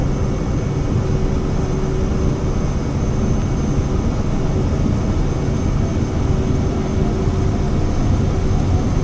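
The FlightFX Vision Jet in Microsoft Flight Simulator runs its engine at takeoff power, giving a steady, loud, broadband roar with a thin whine that lasts throughout and has no voices over it.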